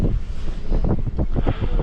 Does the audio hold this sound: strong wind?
yes